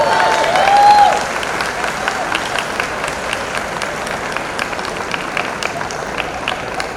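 Sustained audience applause fills a convention hall at a physicians' summer convention in Dallas, a dense steady wash of many hands clapping with scattered cheers, a little louder at the start then holding even throughout.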